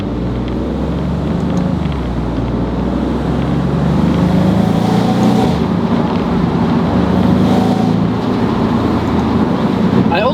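A 2025 Maserati GranCabrio Trofeo drives along back roads. Its engine gives a continuous loud roar, and gusty wind noise rises and falls over it.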